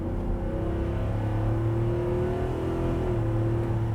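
A 2023 Ford F-250 Super Duty pickup with a 6.8-liter engine and 10-speed automatic accelerates at full throttle, a steady, coarse, low engine drone whose pitch slowly climbs, heard from inside the cab.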